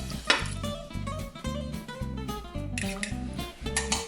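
Eggs with a glug of milk and a pinch of salt are whisked in a bowl, giving a steady rhythmic clatter of utensil against bowl, close and continuous for several seconds.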